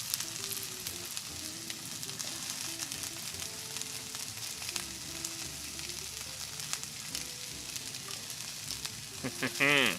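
Diced onion and daikon fry in a pan over a campfire, giving a steady close crackling sizzle throughout with a brief louder stir near the end.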